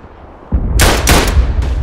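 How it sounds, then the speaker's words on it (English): Machine gun fire in the World War I shooter game Tannenberg comes in loud, close bursts: a sharp opening shot, then several rapid heavy volleys with no talk over them. "I think I can handle him with a machine gun here."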